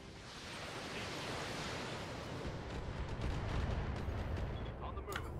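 Weapons fire pounding a Timberwolf mech in a video game: a continuous, heavy rumbling barrage with rolling low booms, growing denser toward the end, with a few sharp metallic pings at the close.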